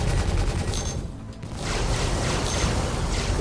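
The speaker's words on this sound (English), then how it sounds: "See if I can fire a couple shots here" Ship cannons firing in the space combat game Star Citizen from an Anvil F8C fighter, a dense rattling volley of rapid shots that drops out briefly and then resumes at full strength.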